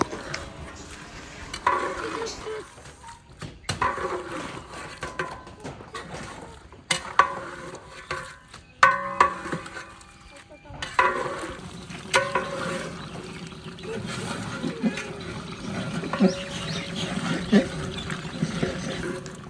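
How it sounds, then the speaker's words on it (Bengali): Beef being stirred with spices in a pot for Cumilla-style tehari, the meat being browned: irregular scraping stirs and a steady sizzle run throughout, with a few sharp clanks and a faint voice in places. "এখন একটু জাল দেওয়ার পর মাংসগুলো সব একটু মিক্স করে দিতেছে, মশলাগুলা সব কিছু লাগাই দিতেছে।"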